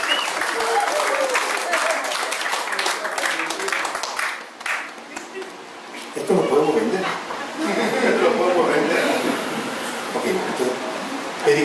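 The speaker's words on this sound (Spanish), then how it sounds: "con un gran aplauso para esta pareja" Loud crowd applause for a couple at a Cholita wedding, with some chuckling, then a brief lull and another burst of clapping as people talk.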